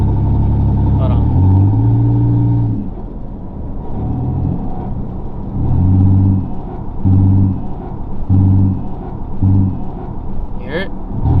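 A project car's engine, suspected of a failing fuel pump, idles with a low rumble and swells in several short, rhythmic bursts under light throttle, close up. A voice speaks briefly near the end.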